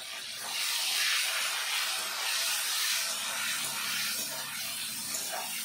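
Sliced bitter gourd frying in oil in a pan with salt and turmeric, a steady airy sizzle and hiss that swells and eases over several seconds, close and moderately loud with no talk.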